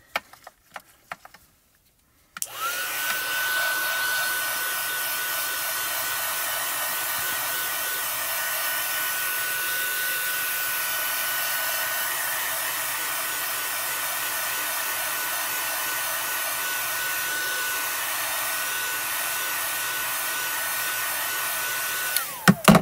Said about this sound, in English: What you do is you take your heat tool to it, and then it will soften